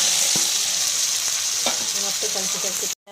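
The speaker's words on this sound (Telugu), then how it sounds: "మొక్కలంతా కలిసిన దాకా ఇచ్చేసి ఇప్పుడు ముక్కలు వేసేసుకోండి" Chicken pieces fry in a hot pan for a chicken fry, a loud, dense, continuous sizzle up close with a few stirring knocks, cutting off abruptly at the end, no voices.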